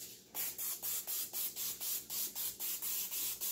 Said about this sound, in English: I'm gonna spray on some butter spray.